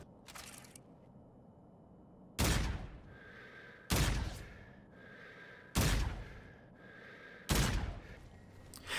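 EBR 800 Osiris rifle in Call of Duty: Infinite Warfare firing four heavy, evenly spaced single shots about every 1.7 seconds, each with a sharp crack and a ringing tail, over quiet background hum.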